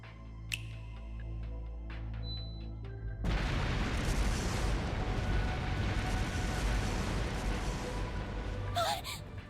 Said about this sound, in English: I figure I can whip up a nice little fireworks show to commemorate the life of my dear boss.